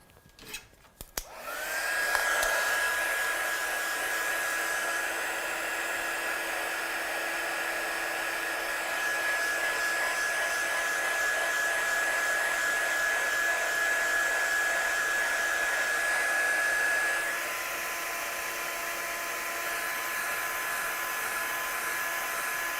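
A hair dryer blows over a gouache-painted card, starting with a few bumps and then running as a steady, close whine and airy rush for about twenty seconds, easing slightly near the end.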